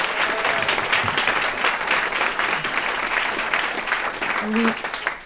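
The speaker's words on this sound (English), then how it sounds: "Another round of applause for them." Audience applause for a cellist and pianist after a Christmas song at a radio Christmas concert: a steady wash of clapping from a crowd, fairly loud and continuous, with a brief tonal voice or note near the end.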